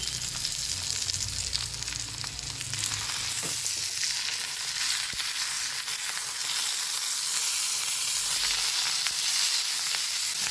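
Pearl spot fish wrapped in banana leaf frying in a covered pan over a low flame, giving a steady, close hissing sizzle that runs alone throughout with no talk.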